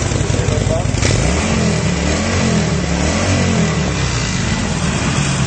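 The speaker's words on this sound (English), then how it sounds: "we can have a listen to this exhaust" Harley-Davidson Nightster motorcycle exhaust revving up and settling, a loud, close, rumbling engine note that rises and falls, with a voice speaking over it.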